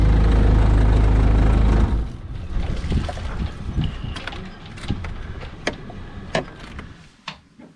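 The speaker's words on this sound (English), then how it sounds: "Okay, I'm going to shut her down now." Boat engine idling loudly and steadily for about two seconds, then cut off, leaving quiet background with scattered clicks and knocks as it winds down.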